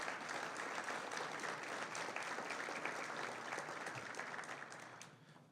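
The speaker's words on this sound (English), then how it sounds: "Let's give a round of applause to all." An audience at a Greater Bloomington Chamber of Commerce dignitary event applauds local officials, a steady, moderately distant round of clapping that fades out near the end.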